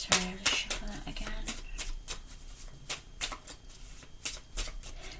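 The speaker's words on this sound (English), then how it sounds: "Sorry, I'll just shuffle that again." A deck of playing cards shuffled by hand in a series of quick riffles and snaps over about five seconds, crisp and close, with a faint voice in the background.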